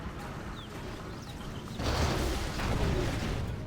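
Heavy rapid cannon fire from a quad cannon unit in a real-time strategy match, a dense rumbling barrage of blasts that swells loud midway and keeps going under ambient battle noise, with no talking.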